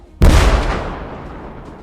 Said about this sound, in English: It was a remote mine, and an explosion occurred.